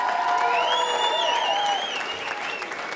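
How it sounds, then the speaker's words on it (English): Applause from a gala audience honoring veterans and active military service members, a dense steady clatter of many hands that fades slightly toward the end, with whistle-like tones and cheering mixed in. "Let's give all of our veterans and active military service members a round of applause"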